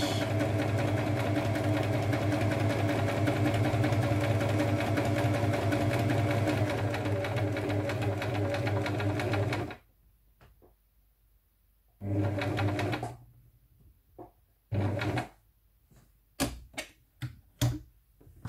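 A sewing machine runs steadily while stitching a cushion, a loud fast mechanical whir for several seconds, then stops, followed by a few short bursts and taps after the machine pauses.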